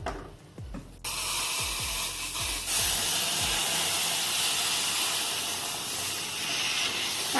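Water poured into a hot pan of roasted wheat flour and ghee for a traditional Maharashtrian sheera sets off a sudden loud, steady hiss and sizzle of steam after a few soft stirring knocks, continuing unbroken at close range.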